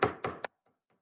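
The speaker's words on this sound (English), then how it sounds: "So the wolf knocked on the door" A wolf raps on a wooden door in a children's story, three close, loud knocks with a slight pause after the first, then faint quiet afterwards.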